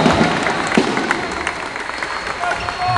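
An audience breaks into applause for the red team as third place is announced at a gathering, a dense, steady patter of many hands clapping, fairly loud and sustained.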